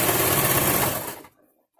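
A sewing machine that needs oiling runs fast while stitching a fabric face mask, a dense rapid rattling burst lasting about a second before cutting off into near silence.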